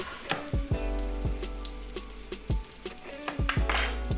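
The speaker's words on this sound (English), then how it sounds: "once we get into our cast iron skillet, which has 2 tablespoons of olive oil in it, we gonna go ahead and give that a mix" One medium diced onion fries in two tablespoons of olive oil in a cast iron skillet, a constant sizzle under repeated scraping knocks of a utensil stirring against the pan.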